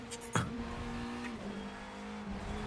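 A 1972 McLaren V8 race car from a mod in the Assetto Corsa sim drones at a steady, sustained engine pitch, then hits a sharp burst near the start and shifts down slightly partway through, with no talk.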